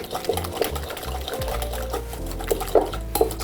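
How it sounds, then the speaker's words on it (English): A whisk clicks and swishes through a creamy sauce with freshly squeezed lemon juice, a close, quick rhythmic scraping with a few sharper taps. "I'm gonna squeeze some lemon juice in here. Give it a whisk."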